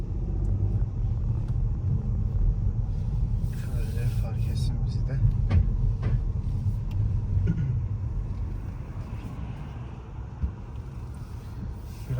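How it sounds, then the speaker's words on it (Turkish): A new Ford Puma with a semi-automatic dual-clutch gearbox is driven along busy roads in the evening. A steady low interior rumble of engine and road noise runs throughout, with someone speaking over it. "Çalıştırıyoruz aracı."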